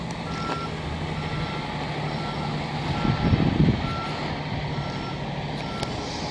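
A truck's reversing alarm beeps at a steady pace over constant low engine and street rumble on Rue Lafrenaie in Montreal North, with a brief louder rumble partway through.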